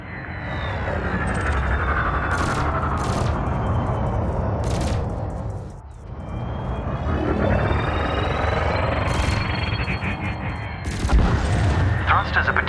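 Cannon and laser fire in the space combat game Elite Dangerous Odyssey, sharp weapon bursts repeating in clusters over a dense engine rumble, with a calm voice talking over the action.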